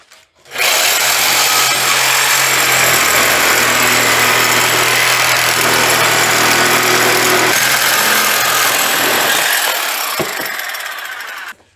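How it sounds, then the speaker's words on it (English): A reciprocating saw cuts through the front clip of a 1940 Chevy coupe, including the shock fluid cavity, running loud and steady for about ten seconds close up before winding down and stopping. "I can't get to the back side of it with my cutoff wheel, so we're gonna sawzall it"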